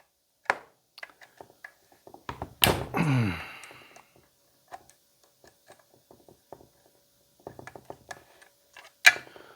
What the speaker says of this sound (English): So all I'm doing right now is taking this here muffler off